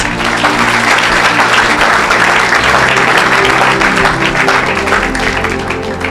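Church congregation applauding, dense sustained clapping from a large crowd that stays loud and even for about six seconds, with faint voices mixed in.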